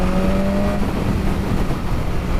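A 2019 BMW S1000RR sport bike's straight-four engine drones steadily at close range, a continuous mechanical hum with a tone that shifts briefly early on, no voices over it.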